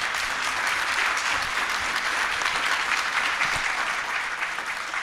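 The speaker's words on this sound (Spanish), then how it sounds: "un aplauso especial para los colegas." An audience at a public forum on psychoactive drugs and HIV applauds, a steady, dense clapping that holds at even loudness throughout before tapering slightly at the end.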